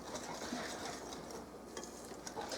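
A whisk stirs cocoa powder into chocolate cake batter in a bowl, a soft, continuous swishing and tapping at low volume.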